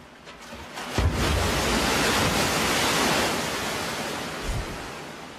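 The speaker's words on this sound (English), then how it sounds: "engineers are using the largest man-made tsunami in the world to help design stronger coastal" A loud rushing roar of water as a wave-generating machine in Kanagawa sends a man-made tsunami down a long chute. It surges up suddenly, holds as a dense broadband wash, then slowly eases off.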